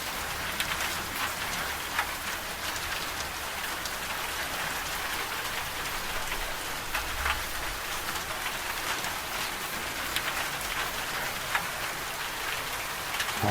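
Steady rain falls outdoors, a dense even hiss of drops on surfaces that holds constant throughout, with no voices.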